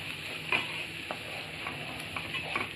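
Tomato puree cooking in a pan for a jackfruit vegetable dish, with a soft continuous sizzle and intermittent scraping stirs at a moderate, fairly quiet level.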